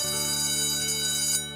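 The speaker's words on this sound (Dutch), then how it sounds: "En daar gaat alweer de bel." A bell rings with a bright, sustained metallic tone and strong overtones, loud and close, holding steady for over a second before fading.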